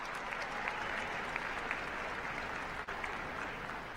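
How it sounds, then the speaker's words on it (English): A pitch competition audience claps steadily and loudly for a winning startup, a dense, sustained wash of applause filling the hall with only a brief dip near the end. "Come on, we can cheer them up bigger than that."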